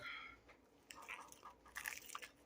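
Crunchy bites into a crusty homemade buttery bread loaf, several crisp crackling bursts close to the mic, growing louder toward the end, with no talking.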